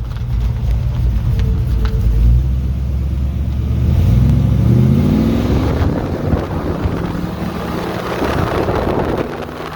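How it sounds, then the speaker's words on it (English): A restored classic truck with a cammed small-block Chevy engine accelerates up through the gears, its loud, close exhaust drone rising and dropping with each shift under heavy wind rumble. "And we'll give you a little pull. Run her up through the gears."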